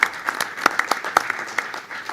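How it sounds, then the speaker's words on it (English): A convention audience claps in scattered, distinct hand claps rather than a dense wash, fairly faint and brief. "So a big round of applause for Vice President Istvan Coco Kovacs"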